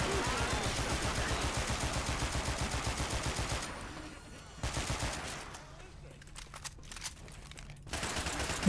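Rapid automatic gunfire in Left 4 Dead 2, a dense continuous burst for several seconds, then a pause and scattered shorter bursts and single shots at moderate loudness.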